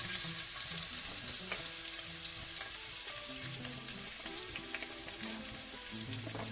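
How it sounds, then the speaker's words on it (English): Chopped garlic sizzles in oil left over from frying fish, giving a steady, close, even crackle with small pops scattered throughout and no voices. "we're using a little bit of the oil to fry up the vegetable. To the oil we're adding some garlic"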